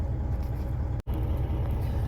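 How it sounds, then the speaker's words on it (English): A truck idles steadily at a loading dock while being unloaded, a continuous low engine rumble that cuts out for an instant midway before resuming. "right now my truck's starting to jump because I'm getting unloaded"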